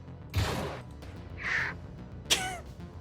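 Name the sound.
person imitating a bald eagle cry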